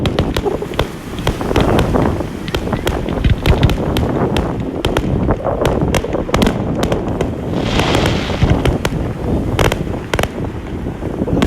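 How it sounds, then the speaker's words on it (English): Fireworks burst over the beach at Coney Island on a July evening, a dense string of sharp cracks and booms, some near and some distant, over constant wind rumble on the microphone. "So this is where we're always going to watch the fireworks,"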